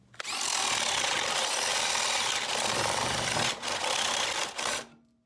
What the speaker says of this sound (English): Make sure there's nothing beneath your bit that's going to trash it when you break through.